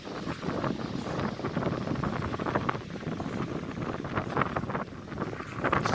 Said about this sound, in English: A really unique sound it makes when the waves come in, and as they come out again they pull all the stones with them